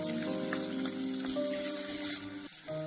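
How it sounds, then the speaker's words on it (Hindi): Chopped onion sizzles in a pan with garlic that has fried until pink, a steady crackling fry with faint tonal background hum, no voices. "प्याज को हमने थोड़ा भून लिया है"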